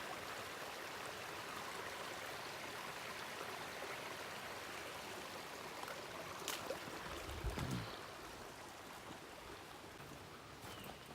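Small forest stream in Pisgah National Forest near Cove Creek Falls, a steady broadband trickle and burble of flowing water close by, continuous throughout with a brief low thump near the end.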